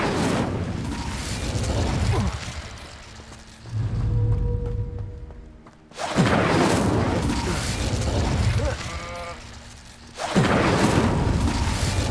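Incendio fire spell cast in Hogwarts Legacy, several loud whooshing, bursting blasts at regular intervals, each surging and then fading, with mechanical rattling between them.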